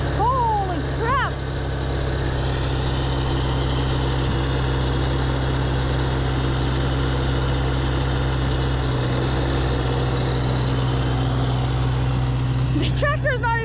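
A four-wheel-drive tractor engine runs steadily through a snowstorm, a constant low idle-like rumble filling the whole stretch, with people talking briefly over it.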